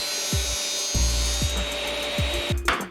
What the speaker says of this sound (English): I can take measures directly from the dry assembled box and cut plywood panels